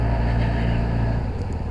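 A Kawasaki ZRX1100 motorcycle engine runs close and loud, a deep, steady idle rumble with pulsing low throb, no talk.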